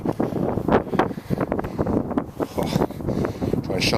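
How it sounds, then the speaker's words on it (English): Gusty wind buffets an outdoor microphone in a nature park, with irregular low rumbling thumps and surges that fill the whole stretch, loud and close. "Try and shelter it a bit from the wind."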